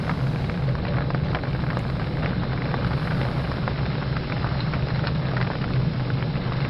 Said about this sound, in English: Starting to heavily rain now.